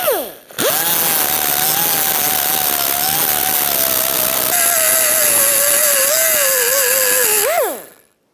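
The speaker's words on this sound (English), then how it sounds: "I'm simply going to grind off the end of it, and then we'll go ahead and push that pin out." A grinder cuts steadily through the peened end of a door hinge pin on a 1993-1997 Ford Ranger, a loud, close, continuous whine lasting about seven seconds before spinning down, with no talking.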